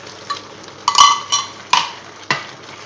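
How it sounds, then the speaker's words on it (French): Squid in a Basque-style tomato sauce with added water is stirred: several distinct clinks and scrapes of a utensil against the pan, close and fairly loud, spaced irregularly over a soft background hiss. "On remue."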